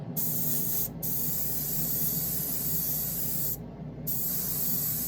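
A spray can hisses red paint onto a small Matchbox Commer van model, a steady close hiss broken by two short pauses.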